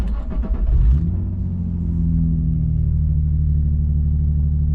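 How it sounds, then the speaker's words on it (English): A car with a manual stick-shift transmission starts up, then settles into a steady, close, loud idle rumble that holds without a break and with no talk over it. "Alright, I have started the car."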